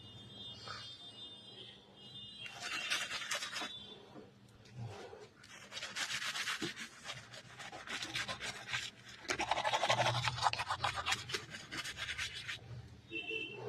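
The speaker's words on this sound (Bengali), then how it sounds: "ঝামা ঘষে গেলাম তো" Pumice stone rubbed against teeth, giving repeated dry rasping scrapes in several bursts, fairly close and moderately loud, with pauses between strokes.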